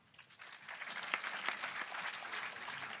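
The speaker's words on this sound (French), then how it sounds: "on l'applaudit s'il vous plaît" Audience applause for a university debater at a French debating contest. The clapping is faint and distant, building from quiet into a sustained patter.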